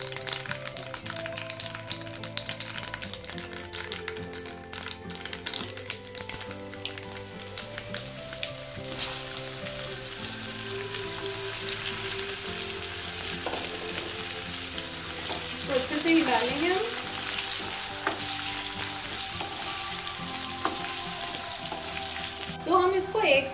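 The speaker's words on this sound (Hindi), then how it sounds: "तो हम इसको 1 से 2 मिनट तक ऐसे अंदर इसमें तेल में फ्राई कर लेंगे।" Raw mango pieces frying in hot oil with asafoetida over a lowered flame, a steady close sizzle with occasional taps and stirring sounds throughout.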